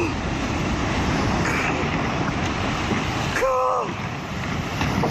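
A violent, ultra-fast surge of water roars loudly and steadily throughout, with a brief voice-like cry rising near the end.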